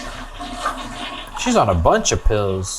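A toilet flushes in a horror TV series, The Haunting of Hill House, as a steady watery rush that gives way to a voice talking over the fading water.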